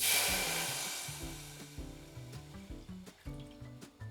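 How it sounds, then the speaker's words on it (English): Cheap tawny port being poured into a hot-ish pan: an initial broadband hiss and sizzle that fades over a few seconds. Low tonal hums and faint knocks sit under it, with no talking. "So hot-ish pan, about 200 ml of cheap tawny port"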